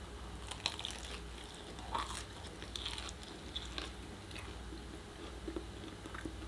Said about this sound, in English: let's see if the crust is crunchy.